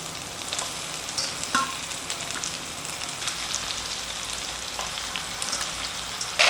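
Medium pieces of Kadaknath chicken fry in a hot pan with a dense, rain-like sizzle, broken by occasional stirring clicks and a brief louder burst at the end, heard close with no speech.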